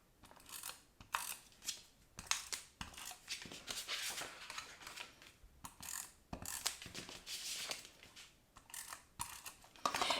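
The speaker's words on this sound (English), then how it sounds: "we are simply going to add tape to each corner right here" A tape runner lays tape on the corners of a matchbox candy holder with soft, repeated ratcheting clicks and whirs in short bursts, close and faint.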